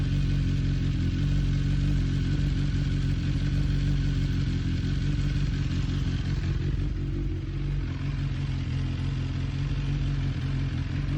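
A BMW S1000R motorcycle engine idles steadily and close for the full duration, a continuous low mechanical drone with a faint clatter or tap, no talking over it.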